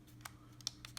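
Plastic buttons on a Neewer TT560 camera flash pressed a few times in quick succession, producing faint, crisp clicks close up against a low steady background hum.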